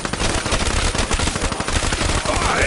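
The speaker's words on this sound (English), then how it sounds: "The most interesting weapon! Rapid fire vengeance is at hand!" Rapid, continuous automatic gunfire from a weapon in a PS4 video game, loud, close bursts running steadily through the whole moment.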